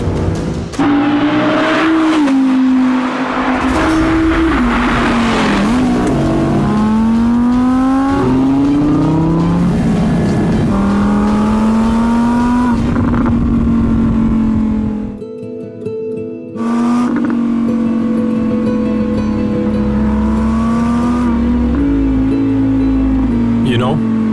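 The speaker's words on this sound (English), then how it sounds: "It shares the V10 with its Lamborghini brother, an intelligent quattro all-wheel drive system." An Audi R8 V10 quattro, sharing its V10 with Lamborghini, drives hard on a mountain road, its engine loud and near with rising and falling revs through gear changes, a brief lull midway, with talk over it.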